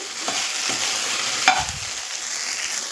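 Okra frying in a pan for a Kannada-style gojju, a steady close sizzle broken by a few soft stirring scrapes, with no voices.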